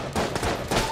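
Enemy gunfire in the bullet-hell game Enter the Gungeon sounds as a dense, rapid patter of shots, loud and continuous across a single second.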